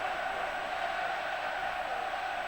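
At the 2011 Six Nations rugby match between Wales and England in a stadium, a large crowd cheers to lift Wales. The roar is a sustained, even, distant wash with no clear peaks.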